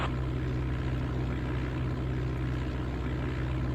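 An aircraft in Flight Simulator 95 rolls for takeoff at Aurora Municipal with a steady, loud, droning propeller-engine hum and a low tonal rumble throughout, with no speech.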